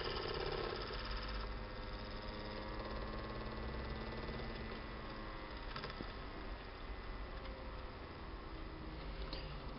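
An electric motor drives a horizontal winding machine for zigzag flat diamond work, running as a steady, continuous hum and whir at constant speed, moderately loud and alone throughout.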